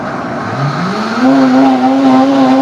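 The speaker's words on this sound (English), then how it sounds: "I just gotta blend this." A blender runs through chickpea chowder in a home kitchen, its motor whine climbing in pitch over the first second, then holding steady and loud on its own.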